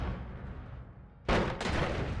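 Explosions in the roguelike video game Noita: after a quiet, hissy lead-in, a sudden loud broadband blast erupts, followed by a second burst and sustained crackling rumble.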